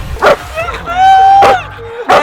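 A fierce guard dog barks and yelps loudly in short bursts, three sharp barks with a whining tone between them, close by amid shouting people during an outdoor escape challenge.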